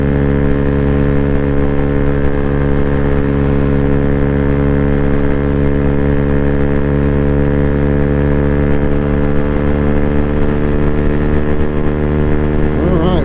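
A 2024 Freedom Fighter 200 EFI motorcycle climbs a hill carrying a 256-pound rider, its engine droning loud and steady with a strong harmonic hum throughout, pitch rising slightly near the end.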